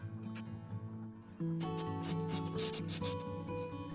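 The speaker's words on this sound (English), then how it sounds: "Now I start sanding the surface, beginning with 240 grit and working my way up to 400." An epoxy resin and pine cone pen blank is dry-sanded with 240 grit paper on a lathe, giving a close, continuous rubbing hiss that turns brighter and louder partway through.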